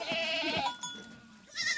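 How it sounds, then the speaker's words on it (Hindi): A young female sheep, about a month old, bleats on a goat farm with free grazing, giving a thin wavering cry followed by a second call, fairly close and alone. "ये भेड़ जो है फीमेल है"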